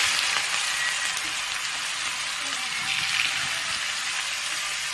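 Potatoes hitting hot oil set off a steady, even sizzle that holds at the same level from start to finish, with no talking over it.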